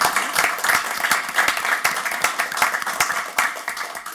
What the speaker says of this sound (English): So I'd like to give her a round of applause for that.